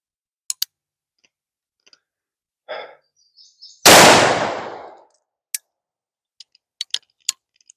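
A Colt Walker black powder revolver loaded with FFF powder fires a single loud, sharp shot that decays over about a second, surrounded by quiet gaps and a few small clicks and handling noises.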